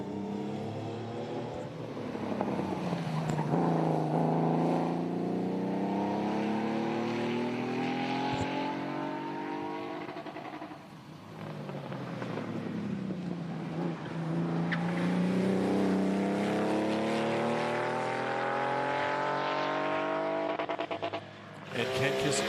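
Porsche 911 GT3 at a sprint event revving hard through its gears, rising and falling engine howls passing nearby in two long runs, with a commentator talking over the noise.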